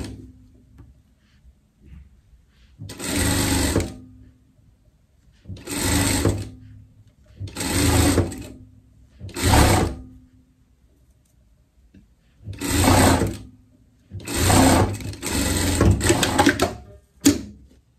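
A sewing machine runs in repeated bursts while stitching the seam of a pet coat, loud and close, each whirring run lasting one to three seconds and separated by quiet pauses, with no voices.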